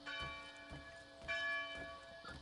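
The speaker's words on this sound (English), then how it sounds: "They're also now ringing the bell and they've shut the gates on me." A church bell ringing in the Assassin's Creed III Remastered video game as an alarm, repeated resonant clangs about every half second with long ringing overtones, moderately distant and without talk.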